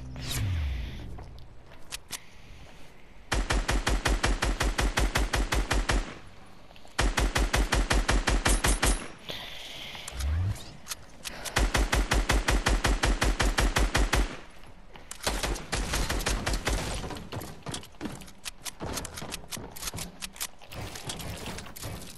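Rapid SMG fire in Fortnite, loud close bursts of fast rattling shots repeating in long strings with short pauses between, then a scatter of quicker shorter bursts.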